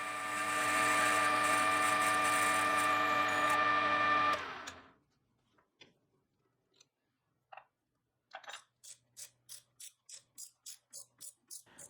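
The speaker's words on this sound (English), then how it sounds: "I'll mount it back in the chuck and it's reversed so I can drill a hole ready for tapping." A lathe drills a hole into work held in the reversed chuck. The motor gives a steady high whine for several seconds, then stops, followed by scattered clicks and a quick run of regular ticking.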